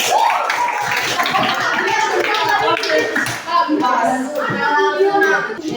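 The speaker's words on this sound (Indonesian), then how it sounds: "Berikan tepuk tangan." Classroom applause, a crowd of schoolchildren clapping steadily and fairly loudly throughout, with some children's voices mixed in.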